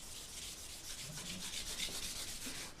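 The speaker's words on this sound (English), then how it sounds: "Now you want to sand the rust off the barrel first with a 400 grit sandpaper." Steady back-and-forth rubbing of 400 grit sandpaper scrubbing rust off a metal gun barrel, close and rhythmic, alone with no talk.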